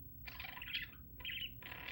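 A pet budgie chirps in two bursts of bright, busy tweeting with a short pause between them, then starts up again, fairly close against a low background hum.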